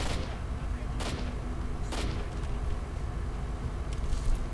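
Gunfire in the video game S.T.A.L.K.E.R.: Shadow of Chernobyl, a few separate sharp shots cracking over a rumbling background, spaced about a second apart, with faint further pops toward the end.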